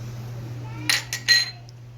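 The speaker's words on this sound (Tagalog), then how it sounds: "I'm just gonna mix this all together" A utensil clinks against a bowl a few times, with brief bright strikes around the middle, as sesame oil, soy sauce, grated ginger and sugar are mixed into a teriyaki sauce; otherwise quiet with a low steady hum.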